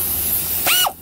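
An air impact wrench fires one short, sharp burst of hissing, whining air, used while replacing a Ford electric cooling fan. The burst comes after a quiet stretch of background noise.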